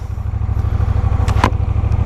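A Honda Rebel 1100 DCT on its standard exhaust thumps close by at low revs as it pulls away, a steady pulsing rumble with a brief clatter partway through.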